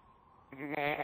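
A sheep in the Halo 3 video game gives a single loud, drawn-out bleat that starts halfway through and fills the rest of the moment after a faint quiet lead-in.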